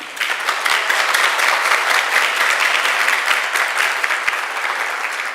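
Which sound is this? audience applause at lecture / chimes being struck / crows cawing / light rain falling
audience applause at lecture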